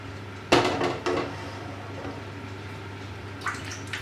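A pan holding melted butter is shifted about, giving a couple of sharp metallic knocks and scrapes near the start and a faint rattle near the end over a steady low hum, with no talk.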